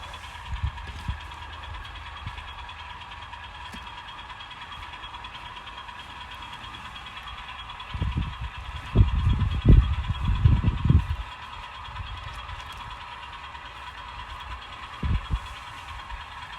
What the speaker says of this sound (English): I got another northbound train coming.